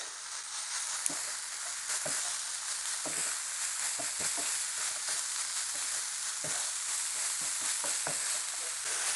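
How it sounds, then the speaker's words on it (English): Onions frying in a pan with spices for a spicy chicken samosa filling: a steady, close sizzle runs throughout, broken by soft scraping clicks as they are stirred at irregular intervals. "allow the onions to cook for 4 minutes, mixing in 2 minutes intervals"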